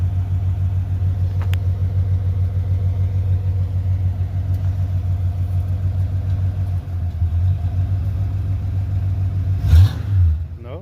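An idling Ford Mustang Foxbody with a T-top rumbles loudly and steadily up close, first start in years with freshly added transmission fluid. Near the end the engine gives a brief rev with a clunk.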